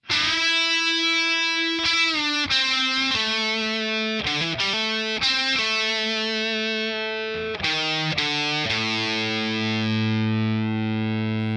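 A distorted electric guitar plays the sustained lead line of the intro to a song, holding long notes and sliding between pitches, loud and alone with no talking.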